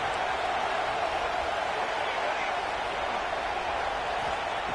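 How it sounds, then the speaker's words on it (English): Stadium crowd noise in a college football video game swells as fans roar to push the defense toward a red zone stop, a steady, dense wash of cheering with no breaks. "And here comes the noise. This crowd is trying to inspire this defense to make a big red zone stop."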